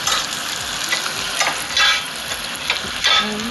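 Onions and mint sizzle and crackle in hot oil in a pan for vegetable khichdi, a steady close frying hiss with occasional stirring scrapes and brief bursts, no talking.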